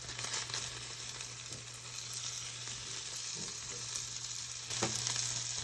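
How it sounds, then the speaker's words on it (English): An egg fries in a pan for a Southern-style breakfast sandwich, giving a steady close sizzle with faint crackles and spatters and no talking. "I'll just do the fried egg just to make it quick and fast"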